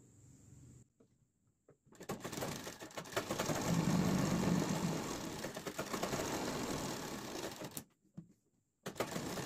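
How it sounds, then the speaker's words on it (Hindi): A sewing machine stitching pintucks on palazzo pant fabric, a loud steady mechanical whirr running for several seconds close by, bracketed by brief stops and clicks. "अब आपको निशानों के ऊपर सिलाई लगानी है।"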